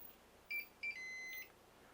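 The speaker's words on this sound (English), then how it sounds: "Okay, it just beeped" A T-fal OptiGrill contact grill beeps when preheated: two short high tones followed by one longer beep, clear against a quiet background.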